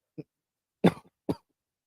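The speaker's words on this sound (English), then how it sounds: "So I had to cough there." Three short coughs close to the microphone, a small one first and then two harder ones, separated by silence.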